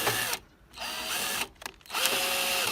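A power drill drives screws during garage metalwork assembly, loud close whirring bursts broken by two short pauses as the screws seat.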